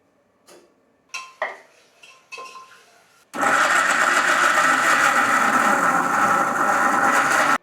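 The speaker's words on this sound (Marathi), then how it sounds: "त्याच्यानंतर आपल्याला एकदम बारीक कांदा कापायचा आहे." A knife finely chops onion on a cutting board for chicken momos filling, opening with a few separate knocks before a dense, continuous run of rapid, loud chopping strikes close by.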